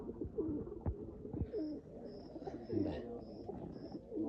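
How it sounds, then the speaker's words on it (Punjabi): Pigeons coo softly in a green forest, several repeated low calls under a steady bed of other bird chirps and rustling, with a higher bird note recurring in the background. "ਬਾਬੇ ਕਬੂਤਰੀ ਕਬੂਤਰ ਦੇਖੋ"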